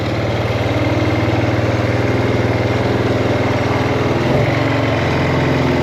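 The single-cylinder engine of a 2007 Buell Blast motorcycle runs steadily after a year unused, a close, loud, even throbbing idle with a brief dip near the end and no talk.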